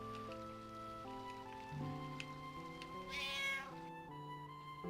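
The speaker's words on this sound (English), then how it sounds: "It's not a very good cat's sound effect, but it's not terrible either." Cat meow sound effect from the video game Final Fantasy IX, a single drawn-out meow rising above steady background game music.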